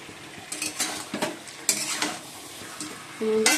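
Chicken being sautéed for kosha in a pan, with a rapid series of clattering utensil scrapes and metallic knocks over a light sizzle. A short tonal beep sounds at the end, and no voices are heard.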